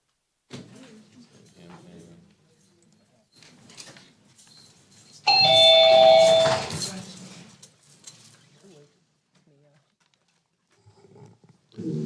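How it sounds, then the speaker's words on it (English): A bell chime is played during a court livestream to bring in the next participant. A loud, ringing tone bursts out mid-way for about two seconds, with quieter speech and room noise before and after. "Can I get that bell for Ramey?"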